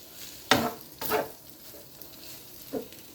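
Sisig frying in a pan without added oil, giving a soft steady sizzle with a few louder scraping stirs early on and another brief clatter near the end, no talking.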